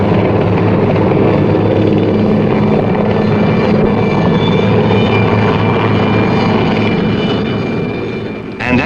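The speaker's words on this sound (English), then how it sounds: "The latest types of aircraft, additions to the fleet, need careful checks and tests" A new Rhodesian Air Force aircraft under checks and tests drones loudly and steadily, a dense engine and propeller roar filling the whole stretch before easing slightly at the end.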